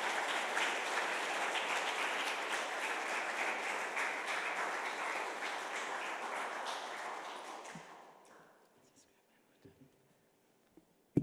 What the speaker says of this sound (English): I want to actually ask you to join me in giving a round of applause to Naiza Khan.